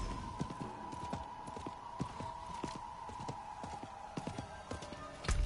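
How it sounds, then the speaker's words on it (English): Horse hooves in Diablo IV clip-clop in a steady walking rhythm over a faint continuous hum, moderately close, with no talking. "Horse didn't take too kindly to that."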